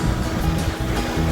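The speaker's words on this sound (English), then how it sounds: "There we go, appropriately named Fantail Falls." Fantail Falls, a waterfall just off the road on New Zealand's West Coast, gives a loud, steady rushing roar of falling water that carries on without a break.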